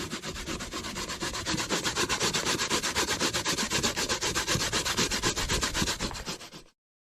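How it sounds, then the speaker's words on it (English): Half of a one-pound pumpkin is grated by hand in quick, rhythmic scraping strokes, dense and loud up close, running for almost seven seconds before stopping abruptly. "So first off, I'm grating the pumpkin."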